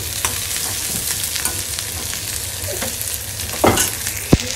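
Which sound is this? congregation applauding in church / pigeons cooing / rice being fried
rice being fried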